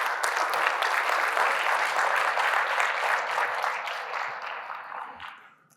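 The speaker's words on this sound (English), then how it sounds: "Give a round of applause for our speakers on this newly crafted track" An audience applauds the speakers at a business conference: dense, sustained clapping that holds steady for several seconds and then fades away near the end, with no talking over it.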